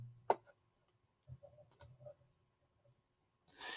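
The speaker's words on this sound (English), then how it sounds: "So I'm going to double click on carbon." A computer mouse gives a crisp, quiet click, followed by a few more soft taps spread across an otherwise silent pause.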